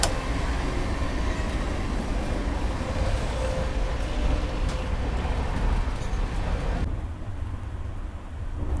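Tejas Rajdhani train running at about 130 km/h, a continuous broadband rumble and rattle of wheels on rails heard from inside, steady and fairly loud, then slightly duller in the last seconds.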